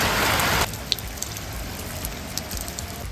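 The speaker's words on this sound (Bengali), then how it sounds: "আর এর পরপরই নেমে আসলো ঝুম বৃষ্টি" Heavy rain pours down in a dense, loud hiss that cuts off abruptly after a moment. A quieter wash of outdoor ambience follows, with a few faint drips and ticks.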